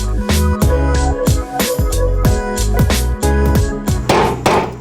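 Hammering nails into wooden decking, a rapid series of loud, sharp hammer blows in an uneven rhythm, close up, with no talking.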